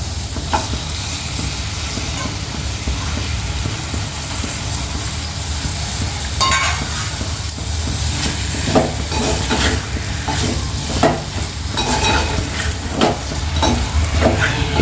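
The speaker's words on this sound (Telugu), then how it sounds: "ఇప్పుడు మనం ఈ సొరకాయ ముక్కలు కొంచెం ఫ్రై చేసి పెట్టినాం కదా ఇందులో వేసేసుకో" Bottle gourd pieces being stir-fried in a pan for a curry, a continuous loud sizzle with irregular scraping and stirring clatter throughout, close by, with no talk heard.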